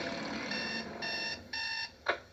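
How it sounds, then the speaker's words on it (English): Electronic alarm clock beeping in a bedroom on a weekend summer morning, several sustained bursts of beeps in a steady on-off rhythm with no talk. "Why is the alarm going off?"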